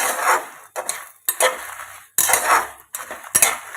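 Fenugreek and coriander seeds are stirred while frying in a pan, a close series of dry scraping and rattling strokes with short pauses between them and no talking.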